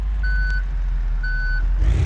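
Two evenly spaced electronic reversing beeps ring out loud and clear from a truck backing a trailer in the BeamNG video game, over a low engine rumble.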